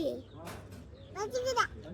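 A young goat bleats several times in short, wavering cries while a person talks nearby, with quiet pauses between the calls.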